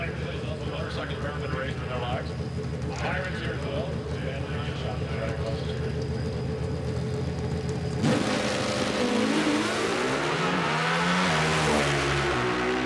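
Suzuki and Buell Pro Stock drag motorcycles race side by side at the 2014 US Nationals in Indianapolis. A steady, loud engine roar shifts into a rising, changing rev near the end, heard beneath race commentary.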